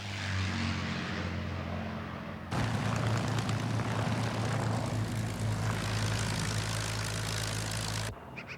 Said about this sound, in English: authentic Japanese and American fighters were used with the help of a small air force